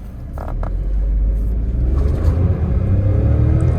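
Kia Sonet HTX iMT accelerating hard from a launch, with a brief squeal of tire spin giving way to a steady, loud engine rumble as it pulls away, heard from inside the car.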